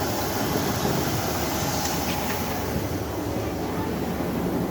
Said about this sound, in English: replacement trains have arrived. And this is it. It's a Class 150